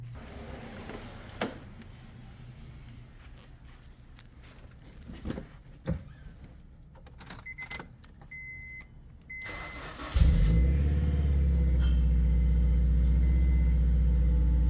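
Quiet rustling and a few soft beeps, then an engine cranks and catches, settling into a loud, steady idle rumble.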